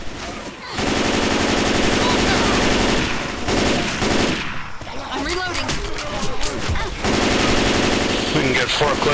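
Sustained automatic gunfire pours into the Tank in Left 4 Dead 2, loud and near, with a brief pause and scattered bursts and other game noise before the firing resumes.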